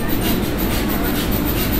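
Inside the Navajivan SF Express passenger train, a steady rumble and rhythmic wheel clatter roll on continuously, close and moderately loud.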